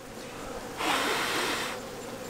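Honey bees buzz around an open hive during a cool-weather inspection of frames with emerging fuzzy young bees, a steady hum that swells louder for about a second mid-way before settling back.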